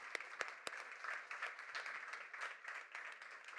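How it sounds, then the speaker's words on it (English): An audience applauding expert speakers at a health and physical literacy session, a steady patter of many hands clapping at moderate distance, with a few louder claps near the start. "let's give a big warm of applause for all the expert speakers"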